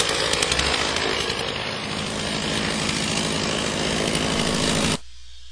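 A chainsaw making the back cut while felling a tulip tree, a loud, continuous, close roar that runs steadily for about five seconds and then cuts off abruptly.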